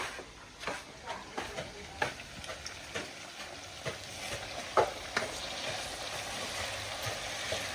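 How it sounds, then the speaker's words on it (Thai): Pork bones frying in a pan, a steady close sizzle broken by frequent sharp crackles and pops that come in irregular bursts throughout. "ทอดที่โครงหมูกินกับตำถั่ว"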